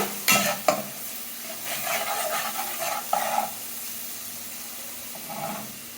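Turmeric, chili and salt being sautéed in a pan, with soft hissing and sizzling under several close scrapes and clinks of a stirring spoon that come in short bursts, and no voices.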